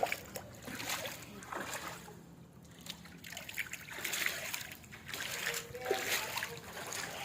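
Feet splash through floodwater on a street where houses have been flooded during all-day rain, with repeated sloshing steps close by and faint background voices.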